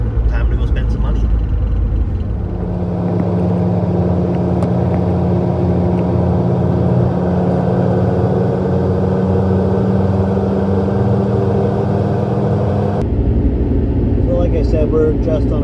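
A car cruising along the road, a steady close engine and road rumble heard from inside the cabin, with a person speaking over it.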